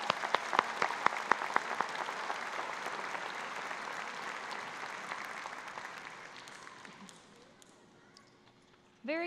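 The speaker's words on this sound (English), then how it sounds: "Let's give both of our music departments one more round of applause." A high school commencement audience applauds the music departments, a dense crowd of clapping with a few sharp near claps that gradually thins and fades, ending as a voice begins to speak.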